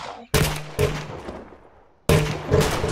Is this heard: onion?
no